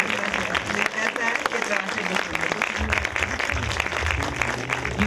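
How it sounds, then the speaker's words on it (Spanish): Applause from an audience at a talk on women in politics, from the suffragists to 2018, given for event organizer Pau; steady dense clapping throughout, mixed with crowd noise and some voices. "Yo quiero pedirles un aplauso para Pau, que organizó este evento"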